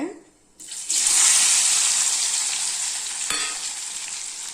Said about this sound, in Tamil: நெல்லிக்காய் வந்து அப்படியே நல்லா எண்ணெயிலேயே நல்லா பரட்டி விட்டு